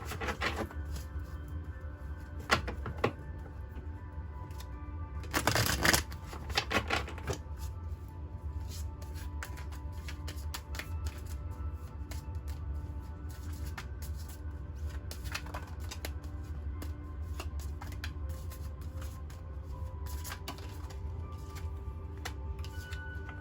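Oracle deck cards being shuffled and handled close by, with a steady soft riffling and rubbing and a few sharper slaps and flicks over a low background hum. No one speaks.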